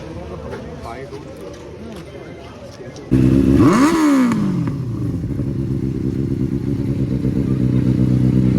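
A Benelli 600i superbike idles with a rough, pulsing rumble until a sudden burst of throttle sends it into a loud rising then falling rev, after which it settles into a strong, steady, close idle.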